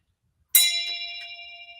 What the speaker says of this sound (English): hey, that was the bell